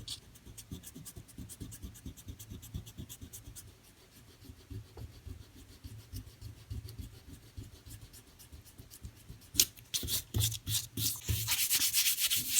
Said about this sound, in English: you can use that same eraser and you can take off your masking fluid